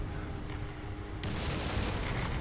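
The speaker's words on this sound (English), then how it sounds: "Getting hit by our own arty." Friendly artillery shells burst on the player's own tank in War Thunder, a dense roaring blast that floods the mix and keeps rumbling, with steady engine drone underneath.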